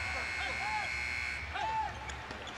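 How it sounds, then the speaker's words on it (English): A basketball shot clock buzzer sounds during an NBA game between the Bucks and Rockets, a sustained electronic tone over constant arena crowd noise while a commentator talks. "Shot clock buzzer goes off"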